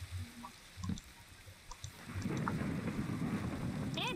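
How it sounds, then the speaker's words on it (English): A thunder and lightning storm in a video game: scattered quiet sounds give way to a loud, sustained rumbling roar of thunder with rain. "And it's a thunder and lightning storm!"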